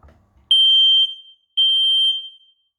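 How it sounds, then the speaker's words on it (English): Household smoke alarm under test in an entry hall, giving two loud, piercing electronic beeps of about half a second each, separated by a short gap, after a faint rustle. "We're testing the smoke alarms."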